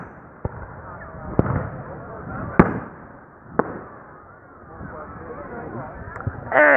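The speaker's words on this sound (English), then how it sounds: "Going with the fireworks." Scattered sharp pops and bangs of Fourth of July fireworks go off at intervals in the distance, under continuous low rumbling and nearby voices.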